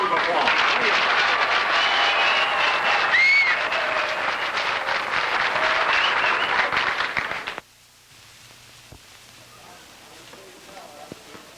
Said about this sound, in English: all three of them deserve a wonderful round of applause